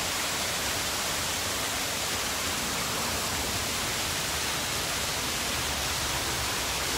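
Steady, even rush of natural spring water flowing in a city, continuous and fairly close, with no breaks or voices over it.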